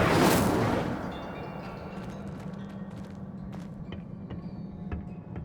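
Casting the Incendio fire spell in Hogwarts Legacy sets off a loud burst of fiery whoosh that fades into a crackling, rumbling burn with scattered sharp ticks.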